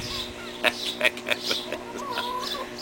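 A new hen clucking in a short series of soft, separate clucks close by, over steady low background noise, with no speech.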